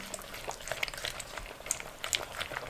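Pistachio ice cream dessert mixture being stirred, giving soft wet squelches and scraping clicks at an irregular pace, close and fairly quiet, with no talking.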